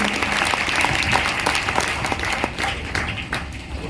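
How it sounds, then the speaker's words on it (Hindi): Loud, dense applause from an audience at a meeting, welcoming newcomers; steady clapping fills the whole stretch up close, tapering slightly near the end. "एक बार जोरदार तालियां नए साथियों के लिए"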